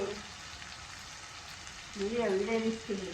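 Bitter gourd (kakarakaya fry) sizzling steadily in a pan as a continuous close hiss, with a person talking over the last stretch of the frying.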